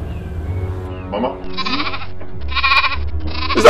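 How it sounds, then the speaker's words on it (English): A goat bleats in a domestic setting, several wavering, nasal cries rising in loudness and fairly close, with indoor background noise and a tonal ring under the first part. "Is that not the goat you said you locked up in the store?"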